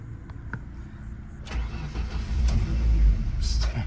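A manual-transmission Ford Escape cranks and starts after the clutch is pushed in, its engine catching and settling into a loud, low idle up close, with a few clicks before the start.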